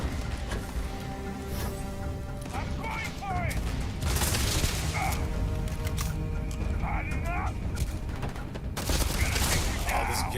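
Gunfire in the video game Starfield, with repeated bursts of shots and impacts running through the whole stretch over a busy combat soundscape, while a voice talks throughout.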